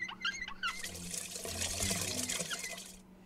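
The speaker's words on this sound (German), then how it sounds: "Als erstes sollte ich Wasser einfüllen." Water runs from a tap into a bowl in a video game, a steady continuous trickle and splash lasting a few seconds, preceded by brief game tones and fading out at the end.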